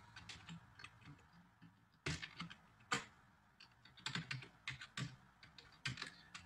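Code is being typed on a computer keyboard with quiet, close, irregular key clicks, coming in bursts and pauses with some sharper taps, and no voice.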